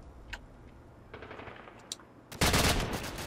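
Call of Duty 4 gunfire with bot opponents, a few scattered sharp shots followed by a sudden loud sustained burst of automatic fire near the end.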